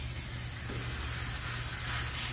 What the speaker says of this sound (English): I'm just kind of pressing on a little bit to make sure I get a nice sear